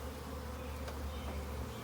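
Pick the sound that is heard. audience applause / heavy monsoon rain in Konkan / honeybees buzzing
honeybees buzzing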